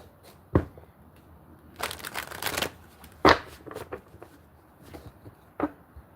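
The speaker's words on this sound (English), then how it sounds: "hold on, sorry, I'm shuffling my cards" Tarot cards shuffled by hand nearby, in several quick riffling bursts with sharp snaps between them, set against quiet room tone.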